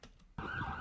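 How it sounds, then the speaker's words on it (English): An emergency vehicle siren starts abruptly and holds as a steady, fairly faint wail. "don't mind the siren"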